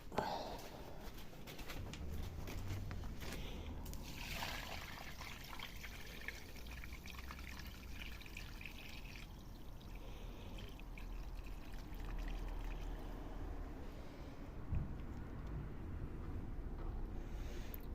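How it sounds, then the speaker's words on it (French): Water drains out of a Miele washing machine, pouring and trickling steadily at close range throughout, while a person talks quietly over it. "je vais vous retirer le plus gros de l'eau"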